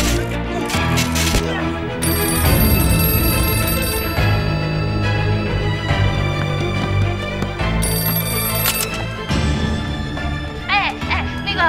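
A telephone rings in repeated bursts through dense, loud music, and voices are heard alongside the ringing.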